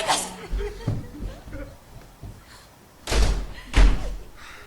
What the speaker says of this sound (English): How many doors are in this place?